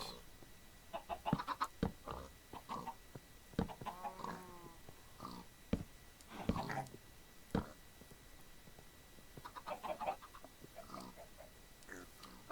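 Chickens cluck in short, scattered bursts among other livestock noises in the blocky video game All The Mods 3, heard at moderate distance with brief clicks and taps, and no voices over them.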